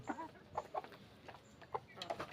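Several desi hens on a poultry farm cluck softly nearby in short, irregular bursts against a quiet background.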